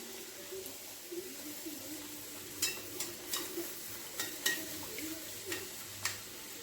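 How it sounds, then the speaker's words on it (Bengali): Radhaballavi dough dropped into hot refined oil, frying with a faint, steady sizzle and occasional soft ticks and clinks from the pan, fairly quiet throughout with no talking. "এইবার আমি তেলের মধ্যে ছেড়ে দিলাম।"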